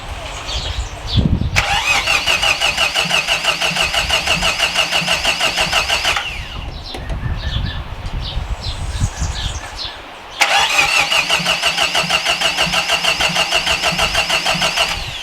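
A Nissan CA18DET engine cranks loudly with a rapid whirring starter sound for several seconds, stops, then cranks again without catching; faint voices appear between attempts.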